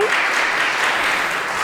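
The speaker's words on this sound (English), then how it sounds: "Ladies and gentlemen, applause button here." A button-triggered applause sound effect plays: a short, dense burst of clapping and cheering at steady loudness for under two seconds.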